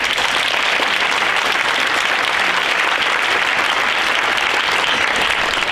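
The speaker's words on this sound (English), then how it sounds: "Could we please give a round of applause to Missy?" An audience at a Native storytelling talk gives a steady, dense round of applause, many hands clapping evenly and fairly loud throughout with no talking over it.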